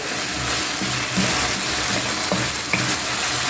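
Carrots stir-frying in a pan for a chicken Thai stir fry give a loud, continuous close sizzle broken by rhythmic scraping stirs.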